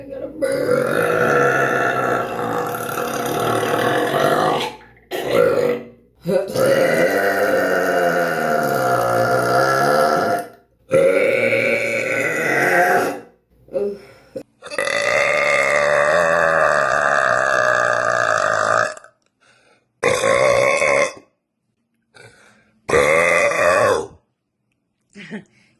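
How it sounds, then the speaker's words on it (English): A woman lets out a series of long, loud, drawn-out burps, several in a row separated by short silent gaps, with a few shorter belches near the end, close to the microphone. "Feel like I got a burp."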